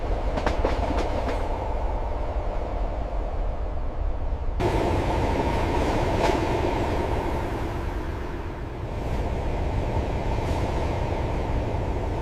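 A train runs over the high-altitude Tanggula Pass railway, giving a steady loud rumble with rhythmic clickety-clack from the cars and no talk.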